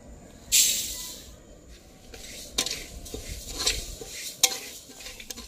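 Lentils for dal tipped into a hot pan of mustard oil on a gas stove, cooking for a large crowd, give a sudden loud sizzle, then repeated metal spoon scrapes and clinks as the pan is stirred, with no talking.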